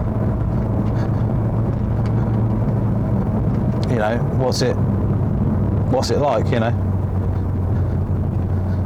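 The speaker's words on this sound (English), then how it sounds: "The roads generally, because the roads are quite noisy, with the engine noise." Steady engine hum and road roar fill the inside of a moving car, a constant close drone that continues while someone talks briefly over it.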